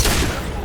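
A high-impact gunshot in the video game Mass Effect 2 lands as a single heavy, booming blast with a dense, sustained roar that fills the short moment.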